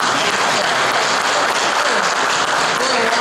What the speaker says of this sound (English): And they all clap for it.